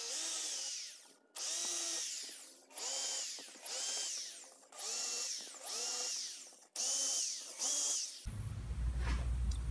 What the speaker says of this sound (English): I'm pre-drilling these holes that go into the door